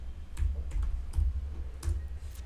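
Someone types a short word on a computer keyboard, a quick cluster of crisp close key clicks with brief pauses between them, alone without talking.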